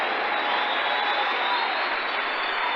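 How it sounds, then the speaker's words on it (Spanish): A church congregation applauding together, a dense, steady wash of clapping from a large crowd that holds at an even level throughout. "le damos un aplauso cerrado todos."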